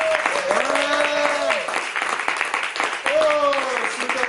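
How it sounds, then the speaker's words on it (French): An audience applauds at a slam poetry evening in a media library in Vence, a dense wash of clapping that swells twice while a voice speaks over it. "Applaudissez-la."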